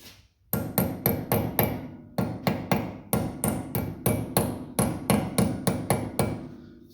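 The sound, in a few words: hammer tapping part into place, front wheel bearing service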